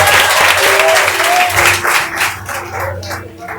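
A church congregation applauding during a sermon, loud close clapping that rises and fades in waves, with a dog-like yelp and voices mixed in.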